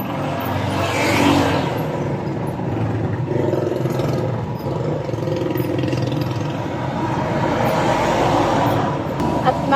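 Car driving along a road toward a market, a steady loud engine and road rumble from inside the cabin that continues throughout, with some voices under it.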